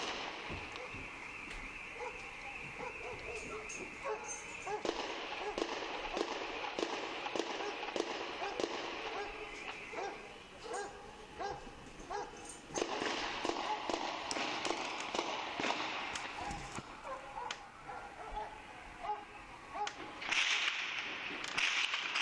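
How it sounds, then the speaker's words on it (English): Sharp cracks and bangs go off repeatedly down the street, irregular bursts of gunfire and explosions during the Boston bombing suspect manhunt, with a dog barking amid the noise. "There's explosions and gunfire going on down the street."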